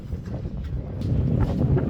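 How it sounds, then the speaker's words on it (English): Gusty wind on a Fuerteventura beach rumbles against the microphone, low and steady, growing a little stronger toward the end, with no one talking. "It's a wee tiny bit windy here,"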